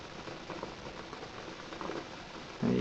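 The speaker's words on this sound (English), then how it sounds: "you can tell we're still percolating" Coffee percolating in a pot on a Westwind stove fitted with a simmer ring, a faint, steady bubbling patter heard close up and alone, ending with a short low thump.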